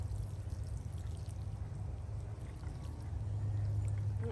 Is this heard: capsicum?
no